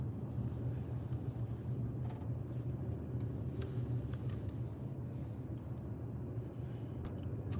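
A car drives through a traffic circle in heavy traffic, heard as a steady low engine and road rumble from inside the vehicle, continuous throughout with no talking.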